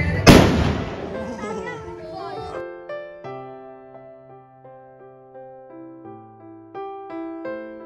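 Diwali firecrackers go off in a single loud, close burst at the start, followed by a long ringing, tonal decay that fades over several seconds.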